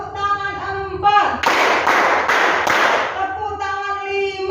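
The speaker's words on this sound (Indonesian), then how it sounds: "Tepuk tangan 1, tepuk tangan 2, tepuk tangan 3," A classroom of students claps in unison during a counting drill, a few sharp, loud group claps in quick succession, with a teacher's chanting voice before and after the burst.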